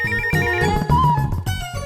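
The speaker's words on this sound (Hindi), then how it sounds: "इसे दूरभाष यंत्र कहते हैं" A telephone rings with a loud, melodic electronic ringtone that repeats its bright chiming phrase for about two seconds, close by and alone with no voices.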